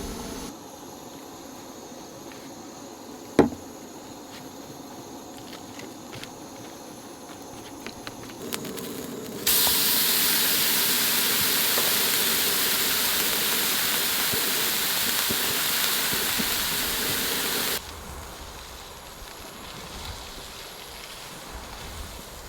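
A pot of water heats on a camp stove at a Jeep awning campsite. A few small clicks come first, then a steady, loud burner hiss that starts abruptly, runs about eight seconds and cuts off.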